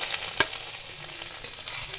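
Chopped garlic and ginger fry in oil in a pan as the first step of chow mein, making a constant close sizzle with a few sharp pops and crackles over about two seconds.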